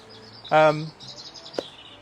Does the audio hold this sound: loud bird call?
yes